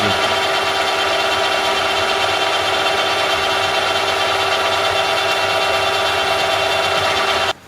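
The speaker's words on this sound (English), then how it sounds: "Now that I've finished spotting with this center drill here" Center drill spotting spoke holes in a BMX hub on a milling machine, a steady loud mechanical hum with a whining tone throughout, stopping abruptly at the end.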